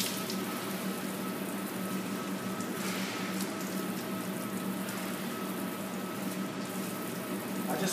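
Tap water runs steadily into a basin while arms are washed for wudu, a constant close splashing hiss without pauses and with no speech.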